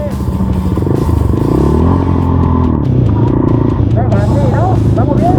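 A Voge 300 Rally motorcycle fitted with a 42-tooth rear sprocket accelerates hard, its engine note rising loud and close while people talk over it.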